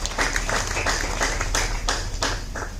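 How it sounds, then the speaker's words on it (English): Audience at a university graduation ceremony clapping in a short round of applause, the claps loosely bunched into rhythmic bursts, steady and moderately loud throughout. "Let's give me a round of applause for that."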